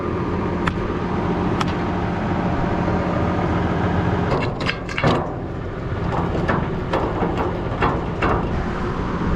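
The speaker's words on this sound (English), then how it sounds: "Got the loader tractor." A loader tractor's engine runs steadily on a farm, a low continuous rumble with a few sharp metallic knocks and clanks partway through.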